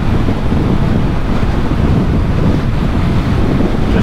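Loud, constant roaring wind buffeting the helmet microphone while riding a 2022 Yamaha MT-09 naked motorcycle on a dual carriageway, a dense rumble that fully dominates.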